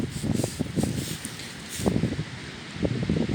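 Strong gusty wind blows outdoors in an open field during metal detecting, a rough broadband rush with low buffeting thumps against the microphone that swell and ease throughout.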